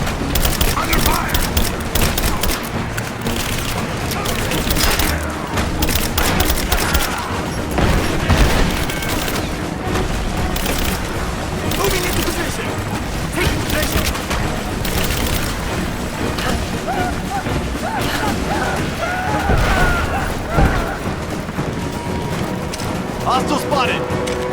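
Dense gunfire and explosions rage through a firefight in the video game Rise of the Tomb Raider, with rapid overlapping shots and booms filling the scene while characters shout under the din.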